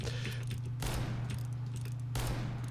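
Revolver fired in a video game, a few heavy booming shots separated by pauses, each with a sharp punchy onset and a rumbling tail over a constant low game hum.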